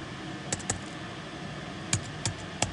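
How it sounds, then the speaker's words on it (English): Sparse keystrokes on a computer keyboard as a class ID is typed. About seven soft, close clicks come in small clusters over a quiet room hum. "type in the class ID."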